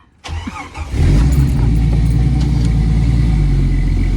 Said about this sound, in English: let's fire it up and go for a ride